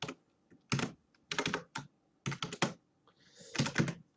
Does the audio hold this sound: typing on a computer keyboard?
yes